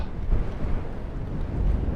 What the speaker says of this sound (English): Actually, the wind's not a headwind,